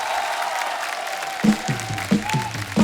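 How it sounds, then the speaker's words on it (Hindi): Studio audience applause for the actor Asrani on a comedy show, a steady broadband clapping wash with a voice speaking over it in the second half. "जोरदार तालियां असरानी साहब के लिए"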